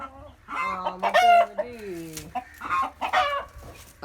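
Native country chickens on a farm cluck and crow in a series of loud, close calls, with a rooster-like crow rising above the quieter clucking.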